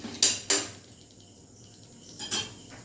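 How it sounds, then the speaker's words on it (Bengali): A metal lid lands on a pot of mutton curry with two sharp clanks in quick succession, and after a short quiet gap comes a softer pair of rattling knocks. "এবার আমি ঢাকা দিয়ে কিছুক্ষণ রেখে দেবো"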